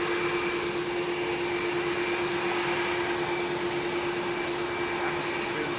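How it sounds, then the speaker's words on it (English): Airbus A330 jet engines spooling up on the runway at London Heathrow, a steady, broad roar with a sustained whine, held at a constant level and moderately distant. "I want to hear that 330 make his way out"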